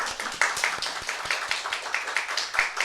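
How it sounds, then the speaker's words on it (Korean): Congregation clapping in welcome during a Sunday church service, a steady patter of many hands at moderate distance with no talk over it. "우리 박수로 함께 환영하겠습니다"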